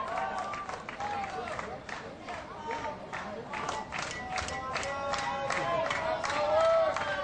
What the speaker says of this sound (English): A Baldwin crowd trying to steer up their ball club a little bit